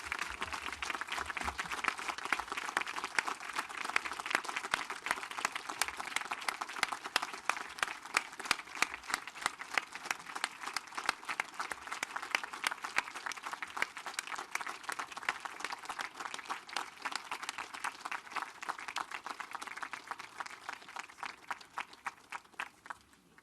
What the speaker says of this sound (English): can we all give them a round of applause as they stand here with us?